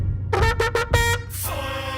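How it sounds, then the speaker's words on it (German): An air horn sound effect fires during a live game stream, a few short loud toots followed by a longer sustained blast, standing alone without talk. "Basti, ich werde jetzt retriggern. Kriegst die Tröte."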